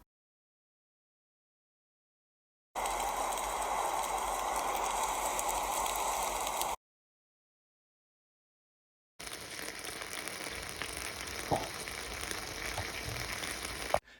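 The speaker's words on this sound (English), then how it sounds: "recording the sound of bacon sizzling on a frying pan would be most effective" Two bursts of dense, crackling sizzle like bacon frying in a pan, each lasting a few seconds and separated by silence, with occasional pops.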